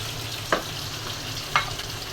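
Ginger, garlic paste and water going into a cooking pan, a low steady bubbling hiss with two distinct knocks of a utensil against the pan about a second apart.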